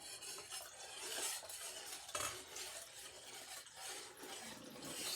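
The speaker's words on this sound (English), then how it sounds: "Stir it up, mix it all around." Soft scraping and swirling of a utensil stirring liquid in a bowl, close, with occasional light clinks and no voices.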